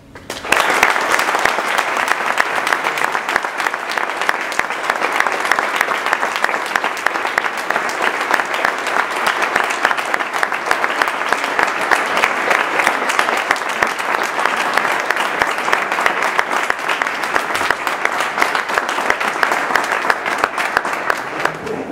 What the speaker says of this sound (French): vous pouvez tous l'accueillir sous une houle d'applaudissements